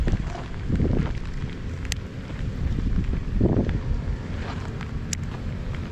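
Strong gusting wind during typhoon conditions while fishing for snakehead, buffeting the microphone in rough low roars that swell and fade across several seconds, with faint rain-like hiss.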